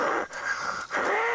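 A voice imitates a person's snoring: two rough, breathy snore-like inhales and exhales with short pauses between, close and fairly loud, with no other talk.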